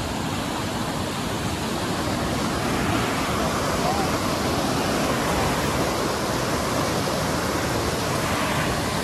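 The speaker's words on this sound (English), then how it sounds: "Top of the falls." A waterfall at Lake Tahoe roars close by as a loud, dense, continuous rush of falling water that holds steady throughout.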